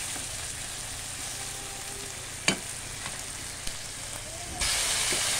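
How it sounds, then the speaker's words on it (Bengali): Chopped onions frying in a pan for a pangas fish curry, a steady close sizzle with a couple of sharp spatula knocks and a louder surge of hissing toward the end. "পেঁয়াজটাকে ভেজে নেব।"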